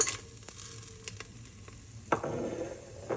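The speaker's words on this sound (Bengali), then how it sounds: "এবার আমি গোটা গরম মশলাগুলো সব দিয়ে দেব" Whole garam masala spices are dropped into hot white oil for chicken rezala, with a few scattered taps and clicks followed by a sudden, louder sizzle that holds steady, close and moderately quiet.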